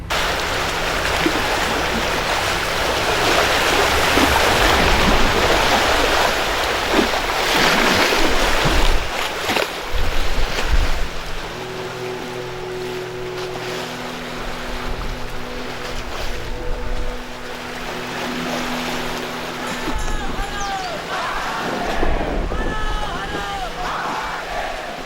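Seawater surges over a submerged Shiva temple as the tide rises, a continuous loud wash of waves and rushing water that later eases into a steadier, lower churn with a faint droning hum.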